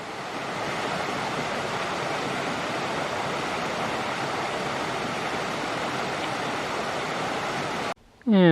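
A mountain creek on the Mogollon Rim in Arizona flows in a steady broadband rush, loud and unbroken for about eight seconds before a brief cut, no voices over the water.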